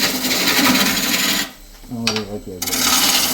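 Roughing gouge cutting a spinning spindle blank on a wood lathe at over 1,000 RPM, giving a loud continuous rasping scrape that breaks off briefly in the middle and resumes, with a short spoken remark under it.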